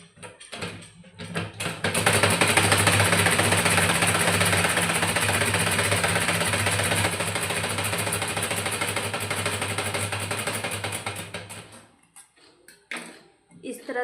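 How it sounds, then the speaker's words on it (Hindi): Folded blouse fabric runs through a sewing machine, which hums for about ten seconds, loud and close, before stopping, with brief speech over its start and end. "इतना हम फोल्ड करेंगे और इस पे एक सिलाई लगा देंगे हम"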